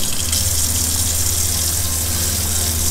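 Water gushes steadily from a faucet in an RV while its fresh-water tank is being sanitized with bleach, a loud constant rushing with a low pump hum beneath.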